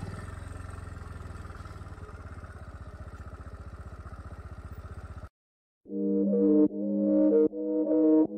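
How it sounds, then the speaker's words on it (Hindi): A motorbike rides downhill toward a village home in Bhaderwah, its engine giving a steady, close mid-pitched drone for about five seconds before cutting out. After a short gap comes a louder, harmonic revving in bursts. "बाइक को लेंगे सीधे नीचे"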